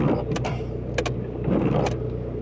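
A car engine turns over and runs, a steady low idle rumble with a few brief higher clicks or whirs on top; the car reliably starts even after standing for several days and is in need of some repair.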